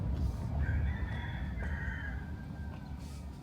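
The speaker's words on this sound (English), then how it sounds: "Did you hear those roosters?" A rooster crows once, fairly faint and somewhat distant, a drawn-out call rising over a steady low rumble of outdoor background noise in a small Texas town.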